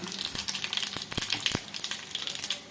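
Cumin seeds, fenugreek and tempering spices sizzle steadily in hot oil for Telugu buttermilk rasam, a dense crackling hiss with a few sharp pops and no talk.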